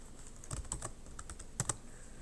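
Keys clatter on a computer keyboard in quick irregular bursts, a few louder clicks standing out, close by with a faint steady hiss underneath and no voices.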